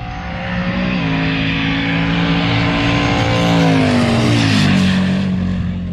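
A red race car at an air strip drag race roars past with a loud, sustained engine drone whose pitch climbs and then drops as it speeds by, dominating the scene with no talking.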